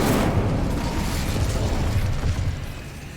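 A fire spell bursts out in Hogwarts Legacy with a loud, dense whooshing roar that swells at once, holds for a few seconds, then slowly tapers off.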